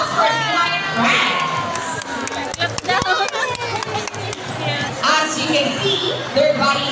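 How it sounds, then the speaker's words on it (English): Audience cheering and clapping at a sea lion show at Manila Ocean Park, a loud continuous crowd din with children's shouts, alongside a voice speaking over it. "And our applause for sea lion friends."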